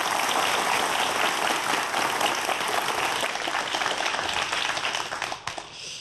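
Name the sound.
audience applause welcoming a lecturer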